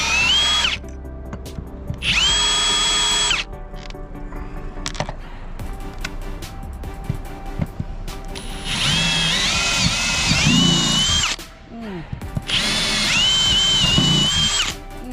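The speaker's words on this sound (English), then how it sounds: "Oh, I hate drilling holes." A power drill bores holes into a boat deck during maintenance work, in several loud, close bursts of high whining with short pauses between them.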